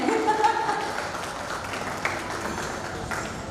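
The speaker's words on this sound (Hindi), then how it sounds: "सर के लिए तो तालियां भी बजनी चाहिए भाई" Audience applause at an awards ceremony in Jabalpur, a steady, fairly quiet wash of clapping from a crowd that carries on throughout with some voices mixed in.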